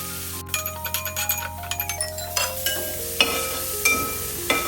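Ginger, garlic, green chili, curry leaves and onion sautéing in a pan, with a steady sizzle under repeated metallic scrapes and taps of a spoon stirring against the pan.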